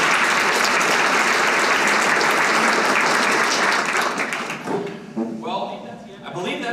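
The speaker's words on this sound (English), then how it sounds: "let's give him one more round of applause" Audience applause at a live event, a dense sustained roar of clapping that fills most of the stretch and then thins out into scattered claps near the end, with no talk over it.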